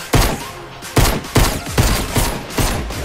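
Rapid gunfire in Fortnite Chapter 2: a dense, loud fusillade of close shots with heavier bursts roughly every half-second, continuous and unbroken throughout.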